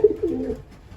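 Racing pigeons give a short, close coo, a low throaty phrase of two or three soft pulses, clear and alone.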